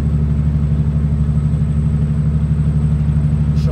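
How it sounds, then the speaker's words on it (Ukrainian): A warmed-up car engine idles steadily nearby on a morning in Washington state, a constant low, even drone with no revving or other sounds. "Мотор нагрівся, вже можна навіть вентилятор включити."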